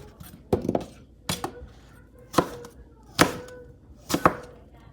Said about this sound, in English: These will be sliced a little bit thicker because they go on top of the steak just for the looks and the color.